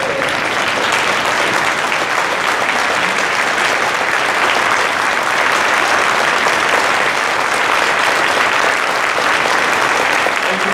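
A room full of people applauds in a sustained, even roar of clapping that holds at a constant loud level for about ten seconds with no breaks or speech.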